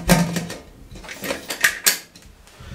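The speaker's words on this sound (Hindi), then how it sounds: "मिक्स करने के बाद इसको हम कवर लगा देंगे" While chatkara boti cooks, a lid is set onto the pot, producing several close metallic clanks and rattles in quick succession that end in a final settling clink.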